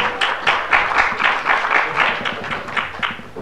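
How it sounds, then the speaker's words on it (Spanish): Audience applause at a Latin American internet governance forum session, a steady wash of many hands clapping with a rolling, even texture throughout, moderately loud in a conference hall. "La vamos a recibir con un fuerte aplauso."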